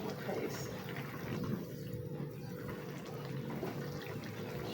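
A chicken and bottle gourd curry broth simmers in a pot with a faint, continuous bubbling hiss that stays steady throughout.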